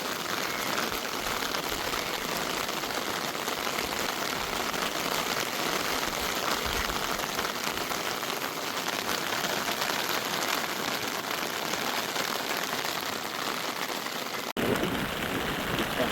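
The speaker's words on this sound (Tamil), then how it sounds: "இப்போ காற்று சரியாக அடிக்குது என்ன தள்ளி விழுக்கிற அளவுக்கு சரியான காற்றா இருக்கு" Steady, loud roar of strong wind buffeting and rain pouring without a break at a beach, a dense broadband rush that shifts abruptly near the end.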